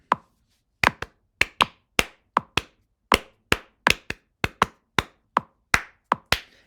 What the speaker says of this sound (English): This metronome clicking is my beat or my pulse, and I can clap various rhythms over that.